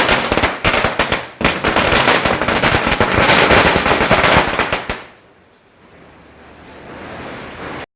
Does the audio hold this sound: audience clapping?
no